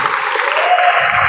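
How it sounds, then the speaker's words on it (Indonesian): A brief, dense burst of audience applause at a leadership seminar, a smooth, muffled wash of many hands at fairly close range with no voices over it. "Oke, tepuk tangan dulu dong,"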